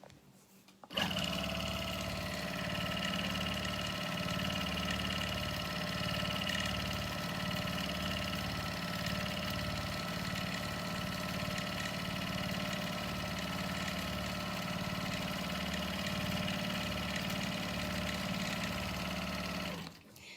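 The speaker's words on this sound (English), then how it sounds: "I want you to listen to my machine and watch my quilting while I'm using it in manual mode" A Quilt Maker Pro 18 quilting machine running in manual mode gives a steady, even motor hum with a fast rhythmic stitching whir, close and continuous from start to end with no talking.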